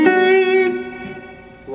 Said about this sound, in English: Reverb, as you can hear,